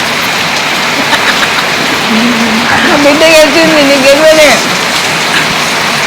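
Heavy rain pours down in a steady, loud, unbroken hiss from start to finish while people talk over the downpour.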